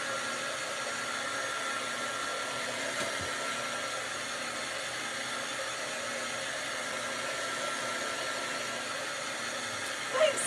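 A hair dryer blows steadily on freshly stenciled paint, a loud, even whoosh that runs unbroken from start to finish with no talk, ending with a faint brief knock.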